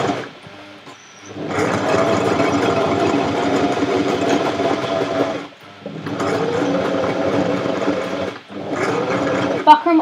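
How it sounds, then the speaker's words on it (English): A sewing machine stitches buckram for a fursuit in three long, steady whirring runs separated by short pauses, close and fairly loud, with no talk. "So I'm just going to quickly sew a little bit."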